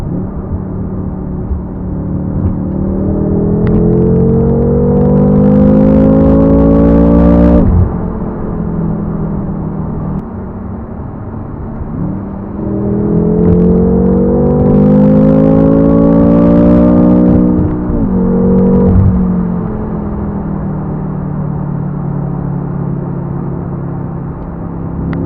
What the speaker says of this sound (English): Let's do a third gear pull.